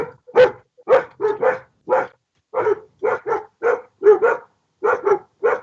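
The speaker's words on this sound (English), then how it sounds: "My dogs are about to freak out and start barking" Dogs bark repeatedly and loudly nearby, a steady run of sharp, separate barks with a few doubled yips, carrying on for several seconds with no talk over them.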